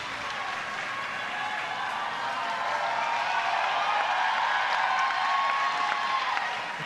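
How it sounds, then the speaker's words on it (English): A weightlifting crowd at a women's 69 kg world championship session cheers and claps for a lifter, a broad, sustained roar of applause and voices swelling slightly toward the middle. "The crowd is getting behind her"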